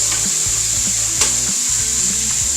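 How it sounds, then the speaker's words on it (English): Onion sizzling in olive oil with meat juices and garlic, a loud, bright hiss with rough, clattering stir and scrape sounds underneath and one sharp click. "when that onion hits that olive oil with the juice off of that meat and that garlic"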